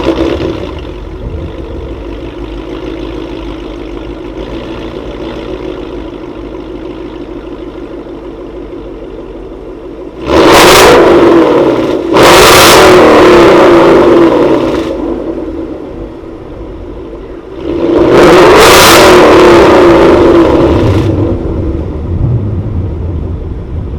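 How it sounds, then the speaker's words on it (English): A 2020 Ford Mustang GT V8 with a Corsa Extreme cat-back exhaust idles with a low steady rumble, then revs loudly in three sharp bursts, the last one held longer before settling back to idle. "I'm gonna go ahead and give you an exhaust note."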